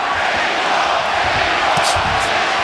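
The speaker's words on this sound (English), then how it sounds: "The cheer, Mexico, Mexico, goes up." A boxing arena crowd roars steadily throughout a round-five fight between Bradley and Marquez, a dense, continuous wall of cheering with scattered louder shouts and no gaps.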